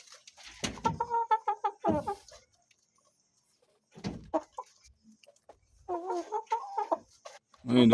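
Backyard chickens feeding on goosegrass cluck close by in short, chattering bursts, with quiet pauses between the groups of calls.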